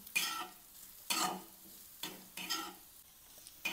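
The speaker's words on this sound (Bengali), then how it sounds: "চিনি নাড়িয়ে চাড়িয়ে নেব" Sugar is stirred into kadam chutney in a pan, giving quiet, rhythmic scraping strokes about once a second over a faint sizzle, with no voices.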